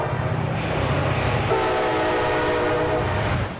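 Train passing close through the town of Lyndon, a heavy low rumble joined midway by a loud, sustained multi-tone horn blast that holds to the end.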